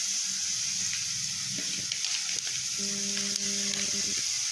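Mustard seeds fry in hot oil for a potato curry, giving a continuous broad sizzle with faint crackles and a low background hum.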